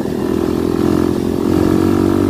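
Kawasaki KLX 250 dual-sport motorcycle idling steadily on a jungle trail, a loud, even engine hum with a low throb and a faint rise in intensity toward the end, no voices.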